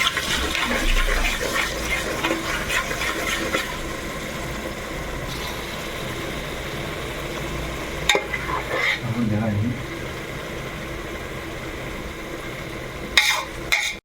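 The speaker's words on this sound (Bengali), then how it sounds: "বন্ধুরা এই যে এখন মশলা কষিয়ে নিয়েছি" Turmeric, chili powder and other spices cook in a pan for a Bengali chicken curry, giving a continuous close sizzle. Stirring clatter runs through it, along with occasional louder scrapes and a brief bubbling spot.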